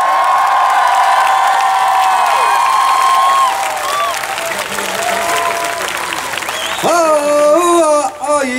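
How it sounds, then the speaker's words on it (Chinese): A concert crowd at a youth gathering in Dulan claps and cheers loudly, the sustained applause overlaid by voices and whoops from the audience. "希望得到你们最热烈的掌声"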